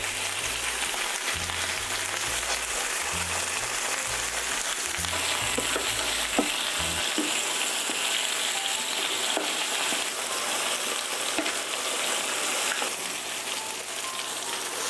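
Curry ingredients seasoned with salt and pepper are stir-fried in a pan, with a steady crackling sizzle and scattered light stirring clicks throughout, under a low hum that fades partway.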